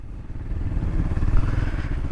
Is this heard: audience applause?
no